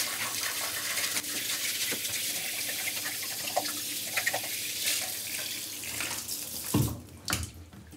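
Shower water runs steadily into a bathroom floor drain while a dish brush scrubs the drain, a continuous close-up rush with a few louder sloshing bursts near the end.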